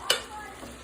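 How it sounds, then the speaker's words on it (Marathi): A brief scrape and soft sizzle as cooked rice is stir-fried in a pan with peas, salt and coriander for pea pulao, a single close stir stroke. "आणि हा टाकलाय भात आणि भात चांगला परतून घेऊया त्याच्यामध्ये"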